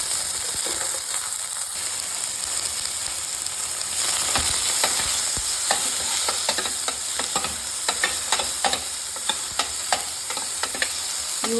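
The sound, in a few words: frying onions, green chillies and tomatoes in a pan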